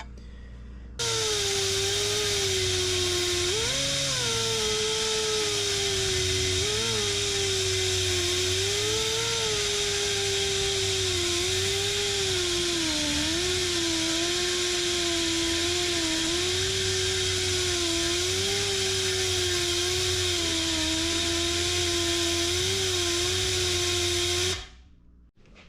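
Power tool cutting a notch into a steel bell housing for an SM465 transmission, a loud continuous whining grind with a steady pitch that wavers slightly under load, running unbroken for over twenty seconds before cutting off.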